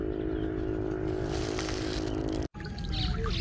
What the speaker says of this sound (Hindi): बड़े ही प्यारे अंदाज में खाल में पानी जा रहा है खेत की तरफ